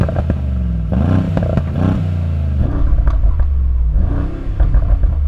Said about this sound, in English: It's the uprated exhaust. Have a listen.